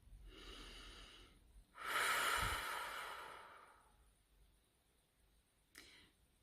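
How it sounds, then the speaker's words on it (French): During a French-language guided meditation, a person takes slow audible breaths close by: a soft inhale, then a long, louder airy exhale fading out, and a brief sharp sniff near the end. "Prenez 3 respirations profondes."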